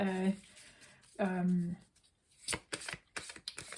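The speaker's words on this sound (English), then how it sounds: "Now I'm shuffling, I'm getting some of the tarot cards out." Tarot cards being shuffled by hand, a few quick crisp riffling bursts close up, following brief speech at the start.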